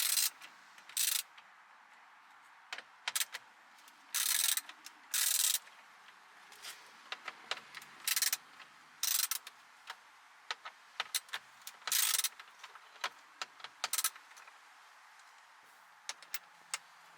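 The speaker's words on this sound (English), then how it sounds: "Remove the four 7mm bolts." Ratchet clicks in short bursts while removing 7mm bolts from the air vent assembly of a Mercury Grand Marquis, with intermittent sharp ticks and brief pauses between, close up and with no talk.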